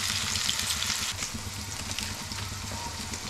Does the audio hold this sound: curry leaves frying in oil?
yes